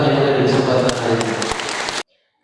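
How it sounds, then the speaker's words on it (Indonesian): Brief burst of audience clapping at an official send-off ceremony for umrah pilgrims at a Hajj dormitory, with a voice speaking over it, ending abruptly after two seconds into silence. "Boleh tepuk tangan yang ada di kesempatan hari ini."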